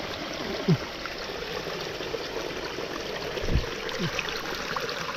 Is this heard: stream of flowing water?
yes